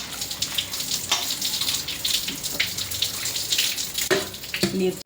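Kadli and methi greens are rinsed under a running kitchen tap, a steady splashing gush with a few brief clatters near the end.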